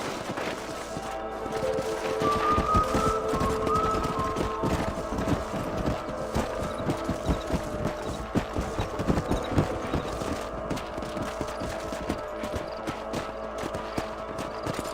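Horses' hooves clip-clop in a steady, uneven rhythm over a low ambient hum in the video game Red Dead Redemption, with a few sharper knocks mixed in, moderately close.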